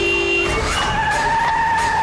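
A recklessly driven car skids, its tires squealing in a loud sustained screech with engine roar, close and continuous, with no talk over it.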